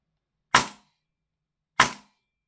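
A Marui MWS gas blowback airsoft rifle fires two separate shots through a chronograph, each a sharp, loud crack with a short decay, spaced just over a second apart in otherwise silent surroundings.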